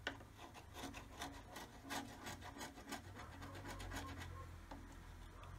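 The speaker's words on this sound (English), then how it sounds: "we just trim around the edge of there with a knife" Knife blade trimming masking tape along the edge of a Tamiya 1/10 GR Yaris RC polycarbonate body shell, heard as close, quiet scraping and rubbing strokes in an irregular rhythm with no talking.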